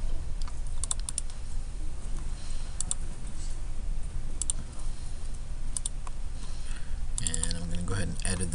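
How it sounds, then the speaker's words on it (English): Fast, close clicking of computer keyboard keys as a path is typed into a navigation file, with bursts of keystrokes and brief pauses over a steady background hiss. "I'm going to start with typing in Digilux 5 and a colon"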